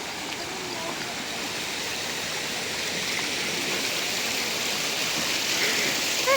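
Steady broadband rush of a waterfall at Krang Suri pouring continuously, a dense even roar that stays close and constant throughout, with faint voices occasionally mixed into the water.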